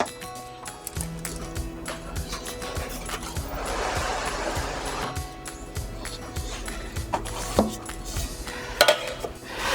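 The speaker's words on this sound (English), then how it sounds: "I'm gonna run a knife along the edge of this pan, and we're gonna flip out each of the layers" A knife scrapes around the rim of a metal cake pan before the cooled layers are flipped out, giving a steady run of close metallic clatter, scraping and knocks with a few sharper clanks near the end.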